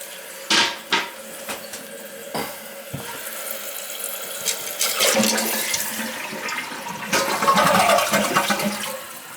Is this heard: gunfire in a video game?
no